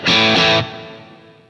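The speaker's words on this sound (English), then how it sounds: "On with the gain down, sounds like this." Electric guitar run through a Klon Centaur overdrive pedal with the gain turned down, giving one brief strummed chord with a second strum, lightly driven, ringing out and decaying over about a second.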